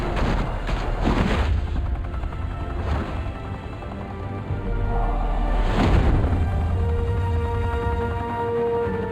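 Gunfire in the Batman: The Telltale Series video game, a dense barrage of shots and booms rolling on without pause over a continuous rumbling battle din.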